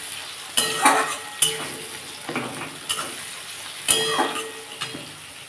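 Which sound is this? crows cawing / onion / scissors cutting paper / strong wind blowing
onion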